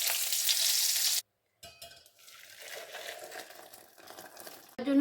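Whole spices and green chilli hit hot oil for a tempering over cooked dal, a bright hissing sizzle that cuts off abruptly, then quieter crackling and stirring, ending with a fresh burst of frying.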